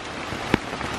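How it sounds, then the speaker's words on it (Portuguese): Heavy rain pours steadily in a forest, a dense continuous hiss with one brief sharper splash or drop near the middle and no voices. "a chuva está engrossando demais"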